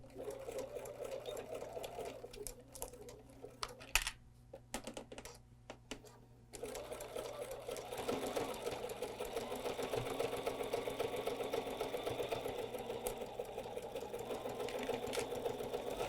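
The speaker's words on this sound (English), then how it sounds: "I've set my machine up for my zigzag again" A sewing machine runs a zigzag stitch through a jelly roll fabric rug, a fast steady mechanical chatter up close that pauses briefly for a few seconds and then resumes continuously, with no talking.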